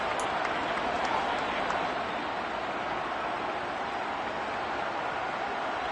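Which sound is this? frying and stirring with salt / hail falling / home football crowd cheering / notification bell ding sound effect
home football crowd cheering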